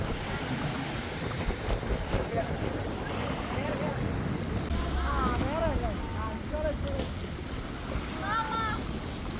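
A small boat rides over sea waves with a steady rush of wind and water across the whole stretch, and voices come through faintly now and then.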